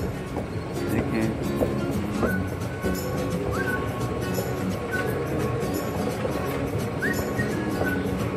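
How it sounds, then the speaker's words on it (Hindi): Dubai Metro train moving through a station, a steady rumbling rush of rail noise with faint squeals, heard under someone talking throughout. "ये मेट्रो की है, देखिए ये अभी फिलहाल एक जा रही है"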